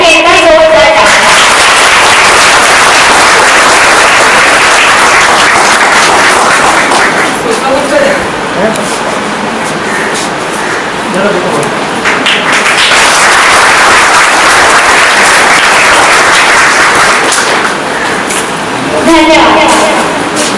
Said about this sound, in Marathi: सुमन नवलकर मॅडमसाठी एका जोरदार टाळ्या